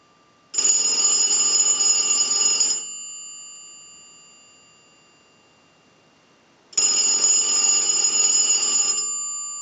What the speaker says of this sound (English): use the analyzer and send a ring cycle like you were getting a call